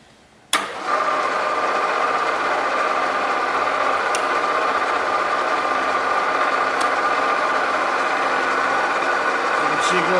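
A Bridgeport 1 HP 9" x 42" vertical milling machine in high gear starts abruptly and runs with a steady, even mechanical whir and hum.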